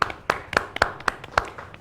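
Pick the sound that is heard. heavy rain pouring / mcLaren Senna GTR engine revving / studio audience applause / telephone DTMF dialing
studio audience applause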